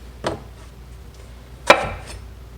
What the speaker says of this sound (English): now we're gonna cut them all open to take out the cores